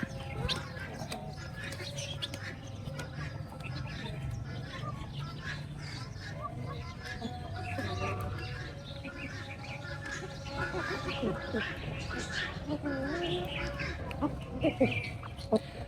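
Farmyard birds, including turkeys, moving about a sunny yard, with scattered quacks and chirps over steady background noise, fairly close, while someone talks over them at times.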